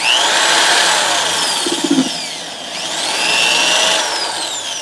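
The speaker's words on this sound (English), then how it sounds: "I just turn the drill on" An electric drill spinning sandpaper on a supernatural build project, a loud, continuous whining buzz whose pitch swoops and sweeps as pressure changes, with a short rattle partway through.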